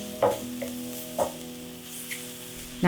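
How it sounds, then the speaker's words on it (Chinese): Mushrooms stir-fried in a pan with butter, shallots and dried thyme for a French quiche filling, a steady close sizzle broken by a few soft scraping stirs of a utensil. "那再炒个1分钟就可以起锅了"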